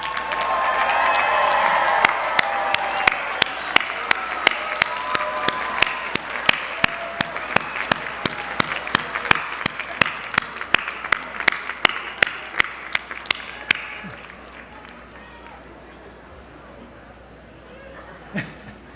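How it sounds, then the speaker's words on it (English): Crowd applause at a 2022 law school JD commencement ceremony as graduates stand and clap for their families, a broad sustained clapping wash with sharp individual claps throughout, fading out near the end. "give them a round of applause for all that they have done for you"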